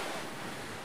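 Rough, storm-driven sea surf on the US East Coast pounding against sandbag barricades, heard as a steady, loud broadband wash of breaking waves mixed with wind noise, with no voices.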